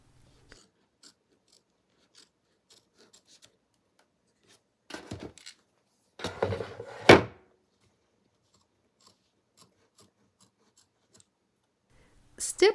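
Duckbill scissors snip through applique fabric in short, sparse clicks, with a denser burst of cutting in the middle, close and quiet against near silence.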